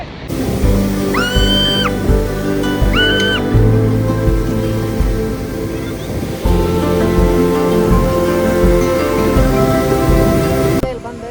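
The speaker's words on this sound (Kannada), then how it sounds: "ಮಳೆ ಅಂತೂ ಫುಲ್ ಬರಾಕತ್ತಿ." Heavy rain falls near Amboli waterfall as a constant broad hiss, mixed with a low droning hum and a few brief tonal calls early on.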